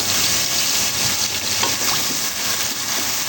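Ingredients for a turnip and spinach dish hiss and sizzle steadily as they lightly roast in a hot pan, a loud, close, continuous frying crackle with faint stirring and no talking.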